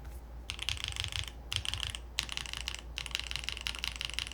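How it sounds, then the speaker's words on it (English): Someone types quickly on a custom HellCat Alice mechanical keyboard in rapid runs of crisp, clacky keystrokes, close and clear, with brief pauses between bursts. "I'm not hearing anything extra from what I'm just typing."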